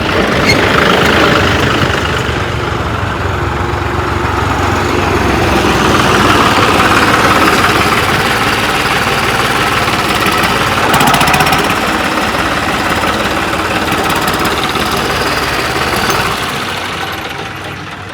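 John Deere and New Holland farm tractor engines running in top gear, a loud, steady diesel rumble with a knocking mechanical chatter that holds even throughout and eases slightly at the end; no talking.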